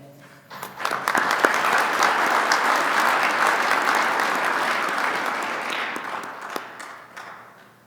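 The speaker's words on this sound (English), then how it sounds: "Please give a big round of applause for Evan Walker, founder and chief executive" Audience applause at a Utah Business CEO of the Year event, a full roomful of clapping that rises quickly, holds steady and loud for several seconds, then gradually thins and fades.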